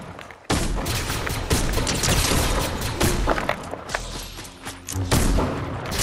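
Gunfire from a Fortnite match, with dense bursts of shots and heavy thumps and booms running almost continuously after a brief quiet start, loud and close in the mix.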